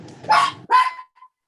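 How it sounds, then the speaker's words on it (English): A dog gives two sharp barks at close range, the second trailing into a short whine, during a board meeting held over a call. "That was my dog adding her 2 cents."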